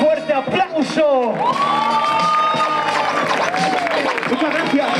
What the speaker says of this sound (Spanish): si os ha gustado, dadme un fuerte aplauso